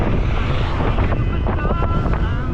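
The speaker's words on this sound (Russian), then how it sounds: "Капец, ветер." Strong wind blasts against the microphone in a continuous, loud buffeting roar that dominates the whole stretch, with no other sound standing out.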